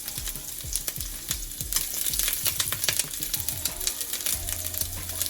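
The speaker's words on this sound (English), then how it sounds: "Now to my oil, I'm going to go ahead and add my onions." Onions dropped into hot oil while preparing Jamaican steamed fish crackle and sizzle loudly up close, with quick rhythmic ticks and taps from stirring through the pan.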